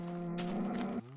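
A cow in the video game Minecraft lets out a single short, low moo, clear and close, ending abruptly after about a second.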